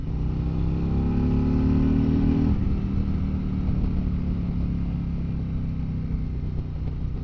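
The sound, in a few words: Harley-Davidson Road King motorcycle engine revving while riding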